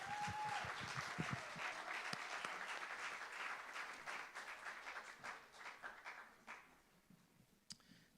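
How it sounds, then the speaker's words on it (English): Audience applause at a live comedy and music venue welcoming a performer to the stage, dense clapping with a whoop at the start that gradually thins and fades to scattered claps. "please, would you put a little extra love and energy into your applause"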